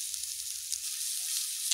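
Onion cubes frying lightly in oil, a steady close hiss and sizzle with a brief low rumble at the start.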